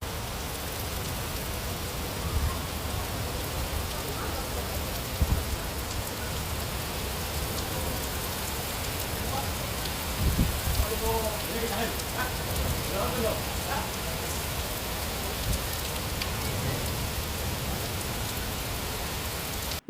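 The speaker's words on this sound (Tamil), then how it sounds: "ரியாது தபுக்கு இது மாதிரியான பகுதிகளை நல்ல கனமழை பெஞ்சிட்டு இருக்குது" Heavy rain pours steadily in Makkah, a dense continuous hiss with occasional louder spatters and faint voices buried underneath throughout.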